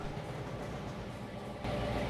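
A coal train rumbles along in Trainz: A New Era, a steady, loud low drone of wheels and engine that swells slightly near the end.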